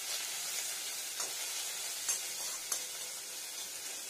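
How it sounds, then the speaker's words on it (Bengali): Black cumin seeds (kalo jeere) sizzle steadily in hot oil in a pan, a dense, even crackle with a few sharper pops over about four seconds, close and moderately loud, no voices. "ভালো করে ফ্রাই হয়ে যাও, সুন্দর একটা কালার আসবে, চেঞ্জ হবে কালারটা"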